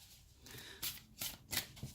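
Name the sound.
shuffling tarot cards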